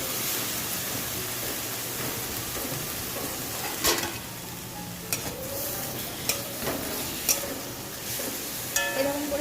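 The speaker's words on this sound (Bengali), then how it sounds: "এটা এখন ভেজে নেব, হালকা করে ভেজে নেব।" Salted, turmeric-coated banana pieces frying in oil in a kadai: a continuous close sizzle, with a few scattered spoon clinks and scrapes against the pan, no talk.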